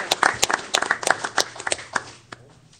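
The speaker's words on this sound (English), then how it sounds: "we'd like to give you a thank you and a round of applause if you're a veteran" Scattered hand claps from a small group at a city council meeting honoring veterans, sharp irregular claps close by that thin out and fade within a few seconds.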